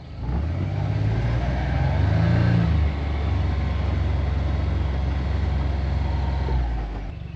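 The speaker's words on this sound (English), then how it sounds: "It's time for a tractor ride." A tractor engine runs at a steady, loud, low rumble, swelling briefly as it revs and then settling back to an even drone before easing off near the end.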